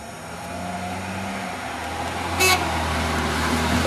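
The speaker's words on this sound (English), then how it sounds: "That was like a clown horn." A car horn with a goofy, clown-like honk sounds once, short and fairly loud, over steady traffic and engine rumble from a passing vehicle.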